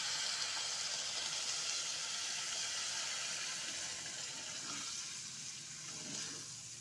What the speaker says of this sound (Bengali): এখন আমি এর মধ্যে জল অ্যাড করে দিচ্ছি পরিমাণ মতো।